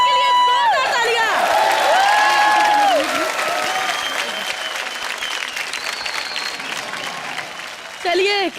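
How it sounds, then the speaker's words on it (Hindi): Loud studio audience applause with cheering fills a Hindi comedy show set, dense and steady for several seconds before easing slightly, with voices shouting over it and a speaker cutting in at the end. "रॉकिंग एपिसोड के लिए जोरदार तालियां।"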